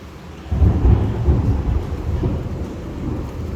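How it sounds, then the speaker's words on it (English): Rain falls in a storm in Pattaya, Thailand, with a deep rumble of thunder swelling in after a moment and slowly fading under the steady downpour. "Now we're getting a good amount of rain all the way around us."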